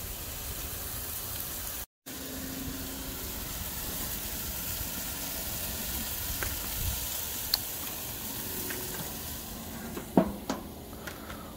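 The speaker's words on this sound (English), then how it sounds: "Let them sizzle." A steady hiss of mutton burgers sizzling in a hot pan fills the scene, with a few faint pops and clinks toward the end.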